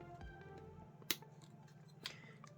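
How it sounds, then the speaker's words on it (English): Transformers Legacy Deluxe Class Cosmos toy weapon snapping into place in blast mode, giving two sharp, brief plastic clicks about a second apart, close and fairly quiet over faint background hum. "with a nice little clicking sound"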